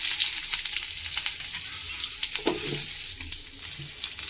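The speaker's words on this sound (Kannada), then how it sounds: "ಈಗ ಒಂದು ಬಾಣಲೆ ಇಟ್ಟೀನಿ, ಅದಕ್ಕೆ ಸ್ವಲ್ಪ ಎಣ್ಣೆ ಹಾಕೀನಿ. ಇದಕ್ಕೆ ಈರುಳ್ಳಿ ಹಾಕ್ಕೊಳ್ಳೋಣ." Onions frying in oil in a pan give a steady, close crackling sizzle with a few soft stirring scrapes, and no voices.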